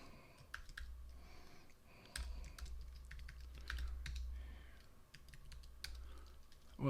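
Password tapped out on a computer keyboard, uneven bursts of close, light key clicks with brief pauses, over a low background hum.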